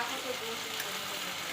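Food being stirred and fried down in a home kitchen pan, a soft, continuous sizzle with faint scraping, fairly quiet and even throughout.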